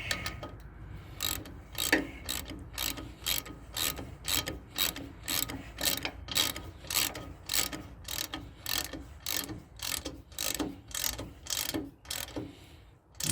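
Ratchet wrench snugging a bolt on the rear air suspension of a 1998 Dodge Dakota truck, a long series of rhythmic clicking strokes close by that repeat steadily for the whole stretch, with no talking.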